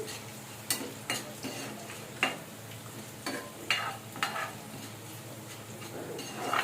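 Bitter gourd curry ingredients frying and browning in a pan, with a steady soft sizzle under repeated scraping and stirring strokes of a spoon against the pan, close and moderately loud, no talking.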